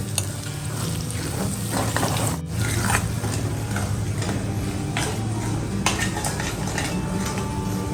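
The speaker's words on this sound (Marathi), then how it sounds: "हे आलं आणि लसूण असं फ्राय करताना त्याचा फ्लेवर यायला सुरुवात होते" Chopped garlic and ginger with chilies frying in a pan for Schezwan chutney, giving a steady close crackle with clinks and scrapes of a utensil against the pan, no talking.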